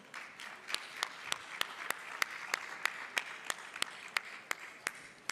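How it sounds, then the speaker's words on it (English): A live audience at a sourcing-event stage presentation gives a short round of applause, a steady patter of many clapping hands with a few sharper claps standing out nearby, fairly faint and steady. "So big round of applause for Christelle, please."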